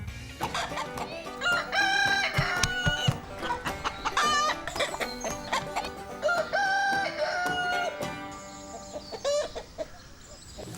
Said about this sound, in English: It's that time again where we get predictions from a chicken.